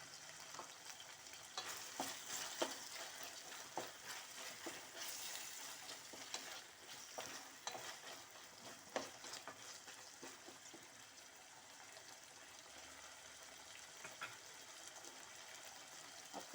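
Tomatoes and curry leaves frying in a pan, with a steady sizzle and repeated scrapes and clinks of a spatula stirring throughout, moderately close and without any talking.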